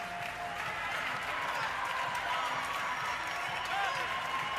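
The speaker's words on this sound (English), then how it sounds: "Fiebig's got the entire crowd behind him here in Germany." Crowd at a CrossFit semifinal event in Germany applauding and cheering steadily throughout, a dense wash of clapping and voices with a commentator talking over it.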